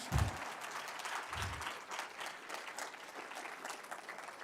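Steady applause from a university convocation audience, a continuous dense patter of many hands clapping across the hall, moderately distant, with a couple of low thumps near the start.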